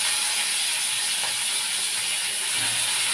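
Chopped tomato hits hot oil tempered with cumin and whole garam masala, making a loud, continuous hissing sizzle that holds steady throughout.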